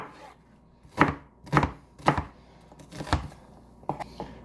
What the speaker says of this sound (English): cut up our onion